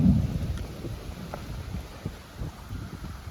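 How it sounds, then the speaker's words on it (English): Thunderstorm rolling in near a cabin: a low, continuous rumble of thunder with wind buffeting the microphone and a steady wash of rain, no voices. "The storm got angry."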